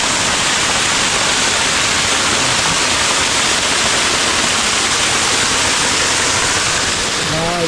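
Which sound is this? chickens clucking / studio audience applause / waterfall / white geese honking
waterfall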